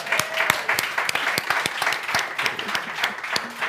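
An audience at a startup event claps enthusiastically, a dense, steady round of applause from a crowded room heard throughout.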